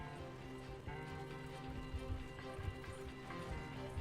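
Horse galloping in the video game Red Dead Redemption 2, rhythmic hoof clip-clop under rain ambience and a tonal game score, fairly faint.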